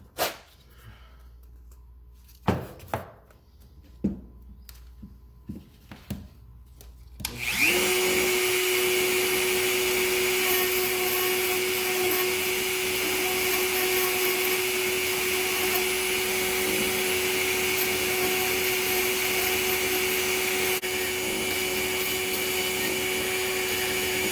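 A few handling knocks and clicks, then a vacuum cleaner starts and runs loud and steady, clearing grinding dust off a Springfield Hellcat OSP pistol slide with a constant whining hum.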